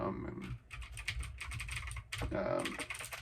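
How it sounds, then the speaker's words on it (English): Someone types quickly on a 60% mechanical keyboard with changing lights, producing close, dense clacking keystrokes in bursts with short pauses, with a faint voice in the background. "mechanical, so it sounds like a typewriter"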